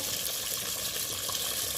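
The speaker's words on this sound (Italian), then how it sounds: "Ora dobbiamo aggiungere l'acqua bollente" Boiling water poured into a pan of artichokes, a steady close gushing splash running unbroken and fairly loud throughout.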